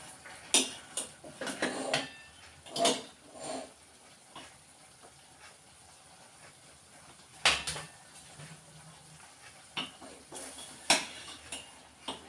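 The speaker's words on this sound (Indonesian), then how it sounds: "Perlu diaduk lagi." Clinks and scrapes of a utensil against a pan stirring boiling stir-fried long beans, irregular and close, with a faint simmering hiss underneath.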